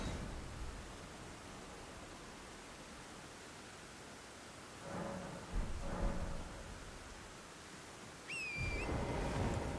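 Steady rain hiss in the video game Elden Ring, a broad, even wash of falling rain with a few low rumbling thuds of distant thunder and a brief tonal chime near the end.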